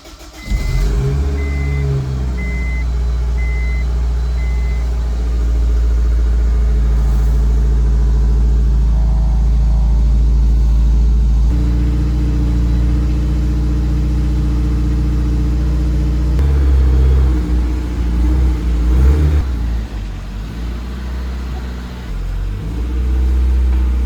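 A turbocharged 500 hp Honda S2000 engine runs with a loud, deep, steady rumble that swells with revs in the second half, heard up close with no one talking.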